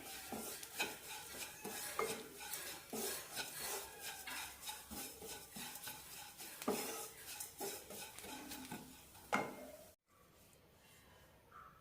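A spoon scrapes and clinks rhythmically against a pot while coriander and chili powder are stirred in for a kohlrabi sambar, quiet, close strokes under a faint sizzle that end abruptly near the finish.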